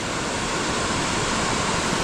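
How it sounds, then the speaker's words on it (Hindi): Chirchiri waterfall pouring steadily, a dense, continuous roar of rushing water that stays loud and unbroken throughout, with no voices over it. "झरना यार वाकई में बहुत ही मज़ेदार"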